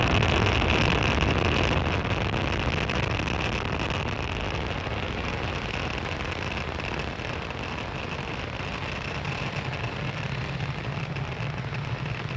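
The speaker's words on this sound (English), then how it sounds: "Falcon 9 has successfully lifted off from Space Launch Complex 40 at Cape Canaveral Space Force Station" A SpaceX Falcon 9 rocket climbs after liftoff from Space Launch Complex 40 at Cape Canaveral, heard as a steady, dense, distant roar that holds throughout, with no voices over it.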